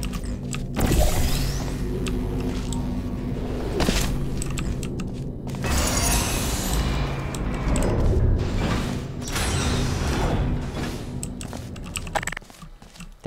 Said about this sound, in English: I feel like almost every map uses different sounds for these elevator buttons